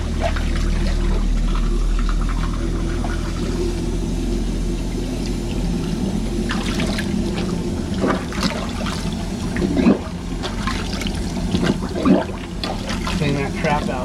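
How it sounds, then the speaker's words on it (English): Water rushing down a kitchen sink with the garbage disposal running, a steady loud churning roar with splashes and clatters over it, heard close at hand while the sink is being unclogged. "I'm gonna power flush this down with the garbage disposal on"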